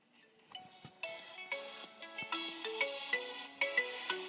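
A marimba-style ringtone plays from a phone as a quiet, bouncy melody of plucked mallet notes in a regular rhythm, heard alone without any voices.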